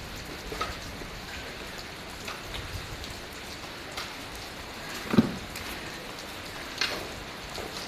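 Steady rain patters in the background, with a few louder drops landing close by.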